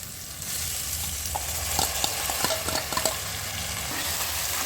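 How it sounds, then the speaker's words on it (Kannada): Washed moong dal tipped into a pan and stirred while making khara pongal, giving a steady close sizzle with scattered scraping clicks of the spoon across the pan, no talk. "ಈಗ ಹೆಸರುಬೇಳೆ ತೊಳೆದಿಕ್ಕಿರೋದು ಹೆಸರುಬೇಳೆ ಹಾಕ್ಕೊತಾ ಇದ್ದೀನಿ"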